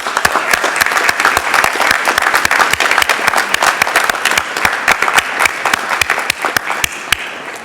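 Loud, sustained applause from an audience at a pharmacy college white coat ceremony, dense overlapping clapping filling the hall with sharp hand claps standing out, steady throughout with no talk.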